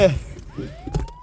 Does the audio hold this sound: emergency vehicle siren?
yes